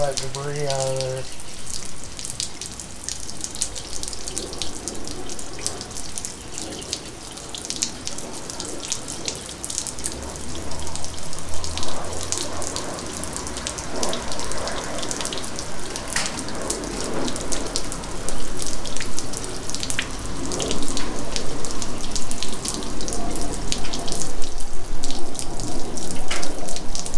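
Water gushes steadily through a Mercury 250 Pro XS outboard motor during a flush to clear debris, a continuous loud splashing hiss that builds slightly over time.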